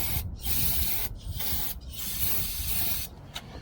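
Super Tech brake cleaner sprayed onto the carburetor of a 1964 Chevy Suburban, a close, loud aerosol hiss in four bursts separated by short pauses, with no talking.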